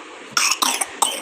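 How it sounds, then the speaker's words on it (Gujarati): A young boy coughs three times in quick succession, the bursts close and fairly loud with brief gaps between them, heard alone in a home kitchen. "ઉધરસ થઈ ગઈ છે ભાઈને"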